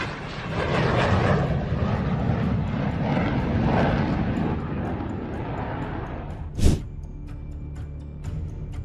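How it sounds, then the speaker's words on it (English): A Turkish Air Force F-4 Phantom jet flying low gives a loud, sustained engine roar that slowly fades, followed by a sharp single burst near the end against quieter background noise. "Watch this Turkish Air Force F-4 Phantom saves itself from hitting the ground."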